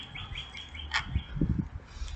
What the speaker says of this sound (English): bird sing. I'm not sure it's a cardinal,